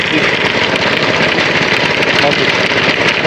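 A motorbike engine idles close by in Cambodia, a steady, rough mid-pitched rumble with a rapid pulsing throb running continuously under the noise.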